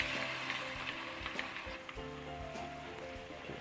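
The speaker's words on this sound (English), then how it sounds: "Yeah, okay, we stir it." Chopped shallots sizzling in hot oil in a pan while being stirred, a soft steady frying hiss with scraping spoon strokes, fairly quiet and close, no voices.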